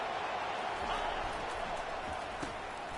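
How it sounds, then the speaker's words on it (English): A football stadium crowd roars in a steady, dense wash of cheering and noise during a college game between Tennessee and Oregon, loud and continuous with no distinct breaks. "This crowd is trying to inspire this defense to make a big red zone stop."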